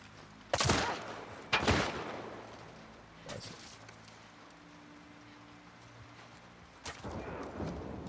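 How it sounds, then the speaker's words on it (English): Gunfire in the video game Grounded crackles in several sharp bursts: two loud volleys close together, a fainter shot, then another burst after a quiet stretch of low background hum. "Who's shooting at us?"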